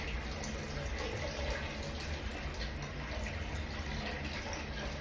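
Water gushes steadily from a shower valve under repair, a continuous close hiss and splash with no pauses.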